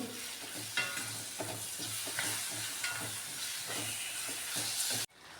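Finely chopped tomato sautéing with spices in a hot pan gives a steady loud sizzle and hiss, broken by regular scraping stir strokes, and cuts off abruptly near the end.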